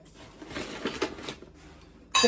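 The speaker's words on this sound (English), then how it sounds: "I'm going to just stir it gently until the sugar has dissolved" Sugar stirred gently in a pot for Thai-style sweet chilli sauce with crab apples, soft scraping and a few light clinks of a spoon against the pot, ending in one brighter metallic clink.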